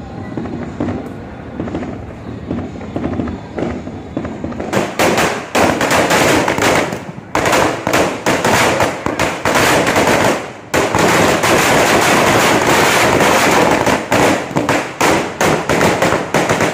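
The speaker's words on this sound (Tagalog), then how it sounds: "Yun haba ng paputok." New Year firecrackers and fireworks explode in long, rapid, loud crackling volleys, close by, after a quieter opening with distant pops, with a couple of brief pauses between barrages.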